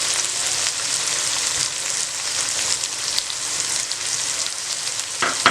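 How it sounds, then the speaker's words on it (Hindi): Onions and green chillies fry in a pan for a dhaba-style ridge gourd curry, giving a steady, close, fairly loud sizzle throughout with a few brief crackles near the end and no voices. "और हरी मिर्च डाल दें। बिस्मिल्लाह। और आपके साथ ही प्याज भी डाल देनी है।"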